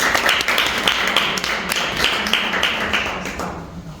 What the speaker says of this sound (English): Let's give a hand of applause and see.